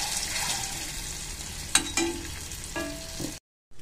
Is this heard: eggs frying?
yes